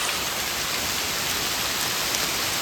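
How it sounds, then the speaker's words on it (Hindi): Heavy hail pelts down on Khaliya Top at 12,500 ft near Munsiyari, heard from shelter under trees as a dense, loud, continuous patter with no voices. "बहुत ज़्यादा ही तेज़ ओले पड़ रहे हैं।"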